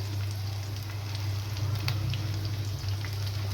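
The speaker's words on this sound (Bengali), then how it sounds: "লাল করে ভেজে নিচ্ছি" Shim beans and lau shak (bottle gourd greens) bhaji frying in a pan: a dense, continuous sizzle with crackly spits over a steady low hum, with no talking.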